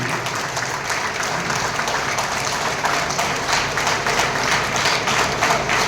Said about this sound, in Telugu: అందరు చప్పట్లు గట్టి కొట్టండి.